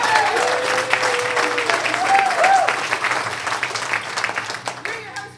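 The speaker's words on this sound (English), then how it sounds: "Give yourselves a round of applause for coming out tonight." Audience applause and crowd noise at a sketch comedy show, with cheering whoops rising over the clapping early on and the ovation gradually thinning.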